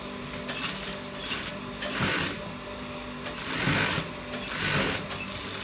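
A sewing machine runs in bursts while stitching an open section of a trouser, its rapid mechanical chatter swelling and easing in close, continuous passes with no talking.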